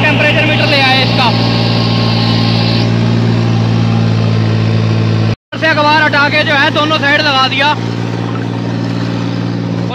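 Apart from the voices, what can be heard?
3630 tractor engine running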